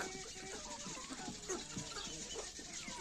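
Chickens scratching about a farmyard that also holds ducks, turkeys and guinea fowl, with repeated soft clucks and short calls close by over a busy outdoor background.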